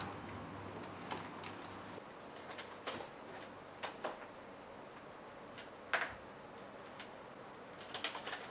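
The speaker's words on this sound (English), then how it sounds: "Stop the clicking." Sporadic sharp clicks sound at irregular intervals, a few louder ones standing out against a quiet hissy background.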